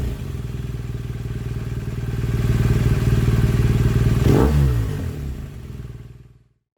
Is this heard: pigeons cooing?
no